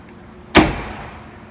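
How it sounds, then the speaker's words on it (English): A drop-down cabinet door with a two-piston no-slam feature swinging open, heard as a single close thump with a short soft tail, against quiet background. "So when you open the door, no need to hold it, just let it go."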